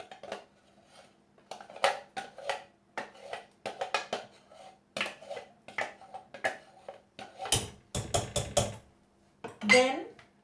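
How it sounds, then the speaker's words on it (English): A pressure cooker and pots are handled while tomato and onion puree and chickpeas go in, producing close, irregular metallic clanks, taps and scrapes, with a few sharper clatters near the end. "I am going to put the puree, the tomato and the onion puree along with the chickpeas in the pressure cooker"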